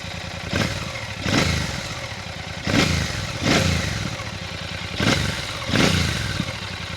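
Royal Enfield Classic 650 air-cooled fuel-injected parallel twin with its stock exhaust, idling with a deep booming hum and blipped through five or six rhythmic revs that rise and fall, heard up close with no talk.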